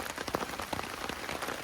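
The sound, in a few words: rain falling at campsite by lake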